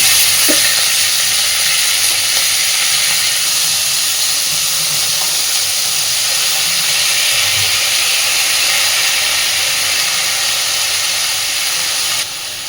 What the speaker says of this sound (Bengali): এবার দিয়ে দিচ্ছি পেঁয়াজকালি আলু আর একটু পেঁয়াজ কুচিয়ে রেখেছি সেটা